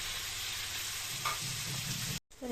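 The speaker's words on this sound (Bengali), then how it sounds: "এগুলো নাড়িয়ে চাড়িয়ে নিয়েছি ভাজা ভাজা হয়েই গেছে" Vegetables fry in a pan before noodles are added, a close, continuous hiss of sizzling oil with a light stirring scrape, cut off abruptly near the end.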